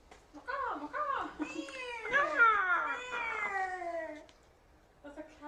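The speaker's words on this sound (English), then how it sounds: "That's a cat." A cat meows in a series of clear, close, rising-and-falling calls, several short ones followed by a long drawn-out wail, with a brief pause before another starts.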